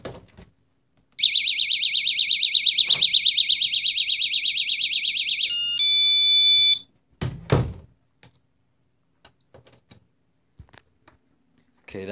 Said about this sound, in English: this one here, put the alarm on